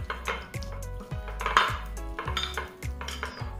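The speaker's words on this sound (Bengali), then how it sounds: "এবারে মশলাগুলোর সঙ্গে চিকেনগুলো ভালো করে মিশিয়ে নিচ্ছি।" Marinated chicken is mixed with spices, salt and oil in a bowl for biryani, with rhythmic clinks and scrapes of a utensil against the bowl, close and moderately loud, wet squelching in between and no voices.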